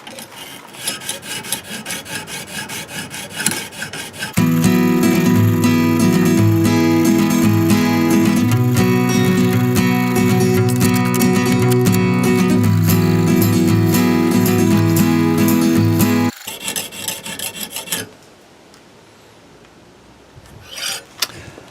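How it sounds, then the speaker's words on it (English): Kershaw AM 6 knife blade being sharpened on a medium grit stone, a loud continuous rhythmic scraping and rasping close up, then stopping and trailing off into quieter handling sounds. "we're done with the coarse stone and I'm now moving over to our medium grit"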